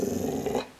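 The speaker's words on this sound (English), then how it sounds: "Now growl." A female dog growls on command, a steady, close, rumbling growl lasting most of the moment before trailing off, with no voices over it.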